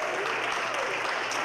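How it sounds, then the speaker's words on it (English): Audience applause at a televised centennial celebration of the Marion County NAACP branch, a steady dense wash of many hands clapping throughout, fairly even and sustained with no voices standing out. "Applause."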